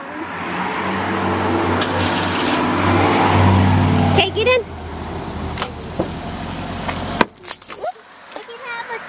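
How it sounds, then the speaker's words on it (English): A car in cold winter weather starts up and runs, its engine rumbling steadily for several seconds before dropping away, with people talking close by inside the vehicle. "Let me start the car."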